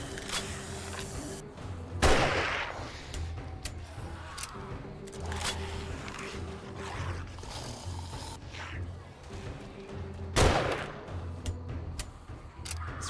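Rifle gunfire in the video game 7 Days to Die, with a few sharp, loud shots spaced several seconds apart over a steady mechanical background hum and scattered clicks.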